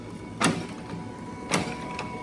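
An Adkins power hacksaw cuts with faint, slow strokes over a low mechanical hum, giving two distinct rasping bursts about a second apart and a softer third one.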